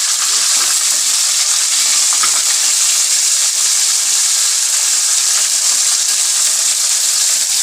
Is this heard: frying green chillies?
yes